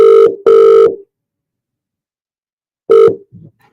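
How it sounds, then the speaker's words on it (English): A telephone rings for an incoming call: two loud electronic ring bursts close together, a long silence, then a third ring that cuts off. "we'll see if we can get Josh on the phone just now."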